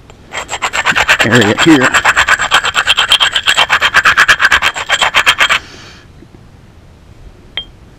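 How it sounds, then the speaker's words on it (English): A blade edge is ground against an abrasive in a steady run of rapid, evenly spaced rasping strokes, loud and close, for about five seconds. A brief voice speaks partway through, and the strokes stop abruptly, leaving quiet with one small click. "Now I'll grind this"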